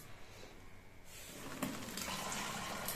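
Liquid poured into a cooking pot while making a cauliflower and prawn biryani, a steady splashing pour that starts about halfway through and runs on at moderate loudness with no talk over it.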